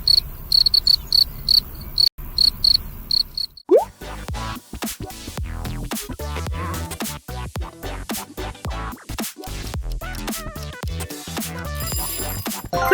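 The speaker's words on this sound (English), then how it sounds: "Cricket." A cricket chirping in a rapid, regular, high-pitched trill alone for a few seconds, then giving way to loud, busy music and other sounds.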